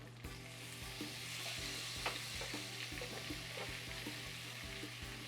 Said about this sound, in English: right now I'm just sauteing my onions up a little bit more in the olive oil that we made